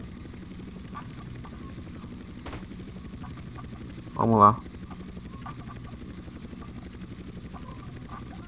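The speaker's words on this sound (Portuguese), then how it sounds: "Esse Hunter aqui é o, acho que pra mim é o helicóptero mais difícil de pilotar" Hunter attack helicopter flying in the video game GTA San Andreas on PS2, a steady rotor and engine drone running throughout with a brief louder swell midway, while someone talks over it.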